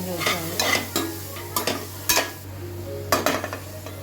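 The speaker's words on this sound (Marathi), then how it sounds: "नंतर सगळं चांगलं परतून घ्यायचं आहे." Spices and kasuri methi stirred and sautéed in a pan for hotel-style dal khichdi: a steady low sizzle beneath repeated scraping strokes of a spoon against the pot, alone and close.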